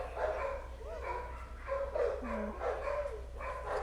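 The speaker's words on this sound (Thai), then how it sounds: "ก็จะมีเอฟเฟกเรื่องหมาหอกหมาเห่าบ้างนะ แถวบ้านเขาเลี้ยงหมากัน" Several dogs bark and yip around a residential neighborhood, a mix of mid-distance barks in short bursts with a brief whimper-like yelp, over a steady low hum of background noise.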